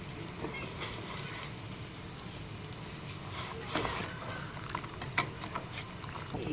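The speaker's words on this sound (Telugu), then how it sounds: "ఇది ఇట్లా మంచి కలుపుకోవాలి." A spoon stirs custard powder into milk for a bread sweet, giving a steady soft scraping and swishing with a few sharper clinks toward the end, close by and fairly quiet.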